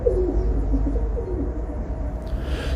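Pigeon cooing in a quiet, deserted city-centre prison complex: a run of soft, low, throaty coos repeats in a slow rhythm for a couple of seconds over a steady low hum of background noise.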